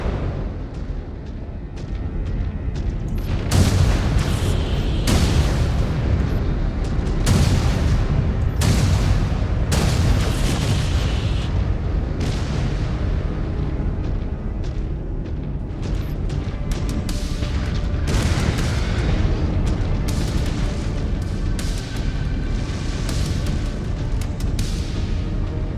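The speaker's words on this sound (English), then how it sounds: "Incoming missile." Incoming missile strikes in MechWarrior 5: Clans: dense, loud booms and blasts that pound almost continuously, with sharp impacts stacking over a rumbling battle din and no talk.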